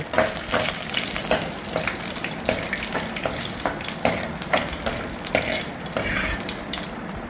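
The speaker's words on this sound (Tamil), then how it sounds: "முந்திரி திராட்சை அதோட சேர்த்து தொண்ணூறு ரூபாவில் அப்படியே நல்லா வறுத்துட்டு" Steady loud frying crackle and sizzle of cashews and raisins in a pan, with repeated scraping stir strokes at a regular rhythm, close up and without speech.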